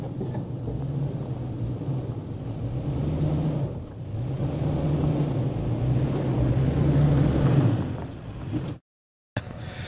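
A 2016 Toyota Tacoma crawls over big rocks on a trail with a low engine drone that rises and falls. Wind buffets the microphone, and the sound cuts out briefly near the end.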